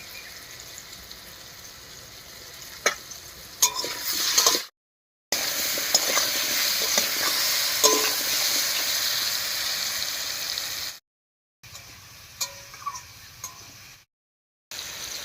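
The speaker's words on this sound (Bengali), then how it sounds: "মিষ্টি কুমড়োটা বেশ কিছুক্ষণ ভাজা ভাজা করে নিয়েছি" Pumpkin pieces frying in oil in a pan, a steady close sizzle with scraping stirs over about fifteen seconds, broken by a few short gaps.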